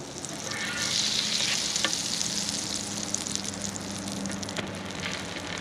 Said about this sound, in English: this one is ready to go back to the griddle with some more butter and a little bit of oil